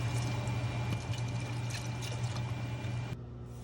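Homemade bone broth poured from a container into a cooking pot, a steady continuous liquid pour close by that runs unbroken for about three seconds, then stops abruptly into quiet.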